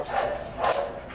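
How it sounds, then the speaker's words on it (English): Two bursts of dog barking, the training dog's companions, heard at a moderate distance during an outdoor obedience session, a short pair of barks followed by another louder cluster. "now those are her friends barking"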